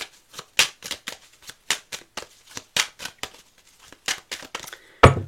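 A deck of cards is shuffled and cut during a French card reading: a close, quick run of crisp riffling and flicking bursts in an uneven rhythm, ending with a sharp, heavier tap as the deck is cut.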